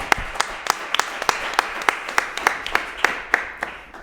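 Audience applause greets the speaker at a book talk, heard as crisp, distinct hand claps in a fairly steady rhythm, as if from a small group, over a quiet room.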